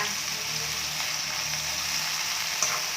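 Sunflower sprouts and vegan squid are stir-fried in a pan, giving a steady, even sizzle heard close up with faint stirring and a single small clink near the end.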